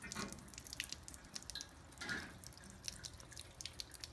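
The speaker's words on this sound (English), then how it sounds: "And now the water flows," Water running and dripping in a small fountain, a steady trickling wash with soft drip accents throughout, close and fairly quiet.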